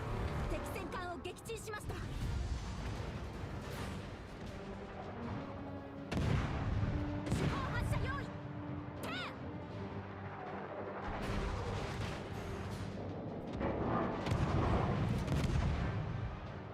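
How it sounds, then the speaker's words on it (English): Naval guns fire in World of Warships, heavy booms rolling in bursts through a continuous game soundscape, with voices talking over them throughout. "fire one side of guns, then fire the other side of guns before the first one's reloaded"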